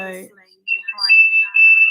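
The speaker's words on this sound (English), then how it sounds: "That's whistling behind me." A sustained whistling tone, high and steady, sounds in the background with brief fluttering pitch shifts before it settles into one long note, following a few words of speech.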